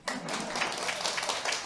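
A seminar audience at a business briefing starts clapping abruptly, and a continuous wash of many hands fills the room at moderate volume for the rest of the moment.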